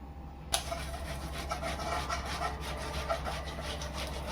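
Potatoes grated finely for sabudana wadi make a rhythmic rasping scrape, close and steady, starting with a sharp knock and continuing in repeated even strokes.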